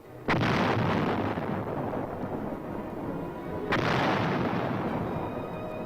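155 mm howitzer artillery firing in wartime Korea against advancing Chinese troops: two heavy booming blasts a few seconds apart, each followed by a long rolling rumble, loud and alone.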